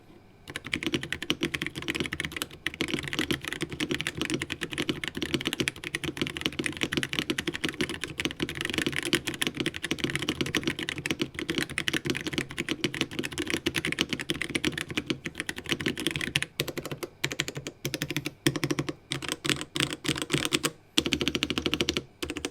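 Press Play Apollo 61 Lite mechanical keyboard being typed on steadily for over twenty seconds, close, crisp keystrokes in a rapid, even stream with brief pauses, no voices.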